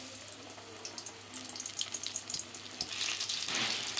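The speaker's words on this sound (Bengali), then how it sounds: "দেখো বন্ধুরা বেগুনি কি সুন্দর করে ভেজে নিচ্ছি" Batter-coated eggplant slices (beguni) frying in hot oil in a pan, a continuous soft hiss and crackle with faint bubbling, steady and moderately close, swelling slightly toward the end.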